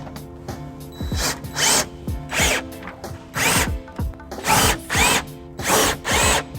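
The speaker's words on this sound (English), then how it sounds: "take the electric drill socket and tighten" An electric drill with a socket tightens a trailer hitch bolt on a 2017 BMW X1, whirring in repeated short bursts, about eight pulses with brief pauses between, close and loud, with a clicking ratchet-like texture.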